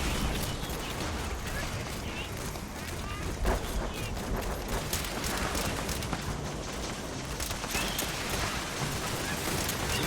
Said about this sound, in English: I'm just kind of shooting, you know, a few rounds at these guys here.